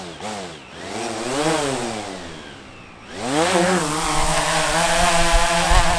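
A camera drone flies close by with a loud whining buzz of motors and propellers, rising and falling in pitch as it speeds up and slows, dipping briefly before climbing again.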